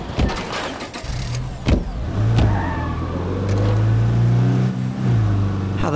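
A car in the State of Decay 2 video game starts up and pulls away, its engine note climbing through several revving surges with game effects over the top.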